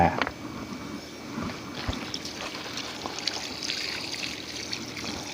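Variegated caladium bulbils being rinsed with water, a soft steady trickle and splash with faint handling noises throughout.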